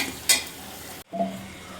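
A spoon briefly scrapes and stirs ground masala into a sizzling tempering for a mutton head-and-trotters sambar, making one short, close clatter followed by a soft frying hiss.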